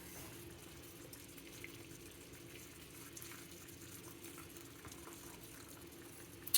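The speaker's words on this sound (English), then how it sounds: "I'm gonna add boiling water." Steady rushing, gurgling boiling water fills the clip, a continuous pour into a pot with no talking and a faint clink at the end.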